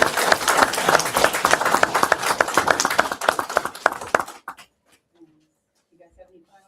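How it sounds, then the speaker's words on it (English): An audience applauds students at the close of a presentation, a dense burst of clapping that fills about four seconds, then cuts off abruptly into near-silence with faint scattered sounds. "giving everybody a round of applause for our students"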